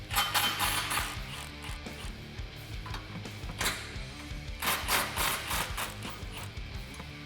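A ratchet with a 15mm deep socket loosens the exhaust clamps joining the factory manifolds to the mid pipe on a 2011-2014 Dodge Challenger 5.7L, giving close, rapid mechanical clicking in uneven bursts with no talk.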